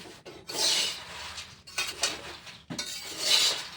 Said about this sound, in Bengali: বাদামগুলো ভেজে নি মন দিয়ে